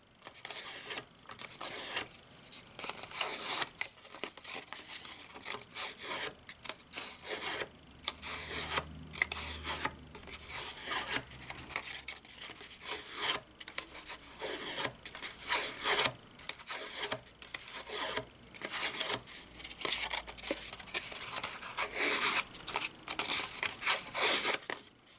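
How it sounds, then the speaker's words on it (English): A bone folder scrapes along paper to curl it while a wedding favour box is being made, giving repeated dry rubbing strokes at close range with no talk. "we get our bone folder like we did before on the Easter ones and just give that a curl"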